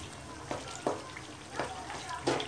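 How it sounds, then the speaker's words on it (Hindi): Tomatoes frying with masala in a pan for chicken karahi give a steady soft sizzle, with four brief stirring scrapes at fairly even intervals rising above it; no one speaks. "हम अपने टमाटरों को अच्छे तरीके से इस मसाले के साथ भून लेंगे"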